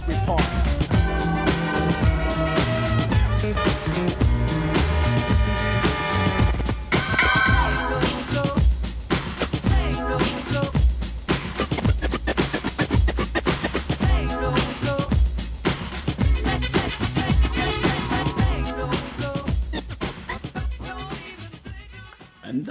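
A hip-hop track, in a remix, plays continuously and loudly, with a dense beat, a thumping bass line and vocals running throughout.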